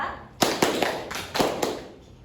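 A few sharp hand claps in an uneven counted rhythm ring out in a classroom-style room, moderately close, with brief quiet gaps between them.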